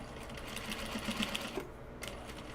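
A sewing machine tacks down Japanese fabric for gyoza bags, running in a steady close mechanical whir with faint stitching taps, then easing off briefly near the end.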